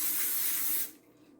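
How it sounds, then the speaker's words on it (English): Olive oil spray hisses from a can in one steady close burst lasting under a second, then cuts off abruptly into a quiet kitchen. "I have some olive oil spray. I'm gonna spray my"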